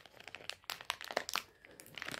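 Plastic wrapper on a square lollipop crinkles and crunches in quick, irregular bursts as it is handled and opened, close up and fairly soft, with no speech.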